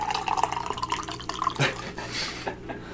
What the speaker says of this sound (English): I'm going to pour myself some water.